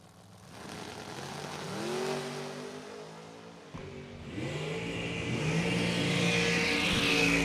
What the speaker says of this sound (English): The Dragster.